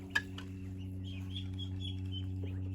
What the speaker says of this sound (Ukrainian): ці кури ганяють